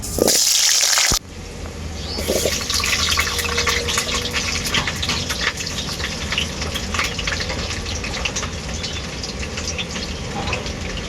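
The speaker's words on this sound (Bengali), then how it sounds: "এখন আমি আলুগুলো ভেজে নেব এই গরম তেলের মধ্যে" Potatoes drop into hot mustard oil in a wok, a brief loud splash followed by a continuous, dense sizzle and crackle of frying that carries on steadily.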